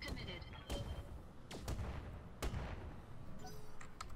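Mech weapons fire in the Roguetech mod of the BattleTech video game, several heavy booming shots and missile blasts punching through a dense, loud rumbling background in quick succession.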